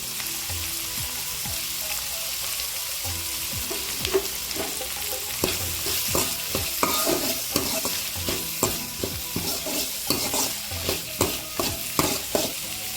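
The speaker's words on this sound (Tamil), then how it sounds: "நல்லா வதங்கிட்டு வெங்காயத்தெல்லாம் வதங்கிருச்சு" Onions with curry leaves sautéing in a pan for broad beans thokku: a steady close sizzle runs throughout, with repeated scraping stir strokes growing denser and more rhythmic toward the end.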